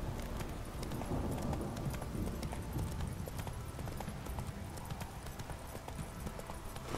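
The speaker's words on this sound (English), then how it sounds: "If we start galloping" Horse hooves gallop in The Witcher 3, a fast, steady clip-clop rhythm running throughout, close and prominent over faint game ambience.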